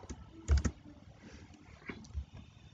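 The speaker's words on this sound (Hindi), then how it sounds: "और यहाँ पे मैं लिखता हूँ राम आम खाता है" Keys tapped on a computer keyboard while typing a short Hindi sentence, a few quiet scattered clicks with small bursts, close and fairly faint, no talk over them.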